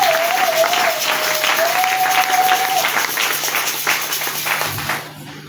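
A church congregation applauds loudly in a steady wash of clapping, a held voice tone briefly over it, fading toward quiet at the end.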